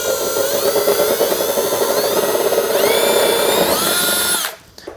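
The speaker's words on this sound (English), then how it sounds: "So I'm gonna like drill circular holes." A power drill bores circular holes during a garage build. Its loud, steady whine rises in pitch partway through, then cuts off abruptly near the end, and no one speaks.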